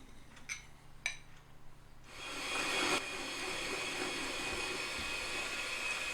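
A steady whirring drone starts abruptly as softened butter is whisked into a bun mixture. A few light knocks come first, then the continuous mechanical hum holds evenly at close range.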